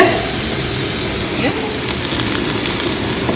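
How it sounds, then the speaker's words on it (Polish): One onion sizzles in a frying pan as a steady, close hiss of frying that runs without a break for a few seconds. "Tutaj się smaży jedna cebula."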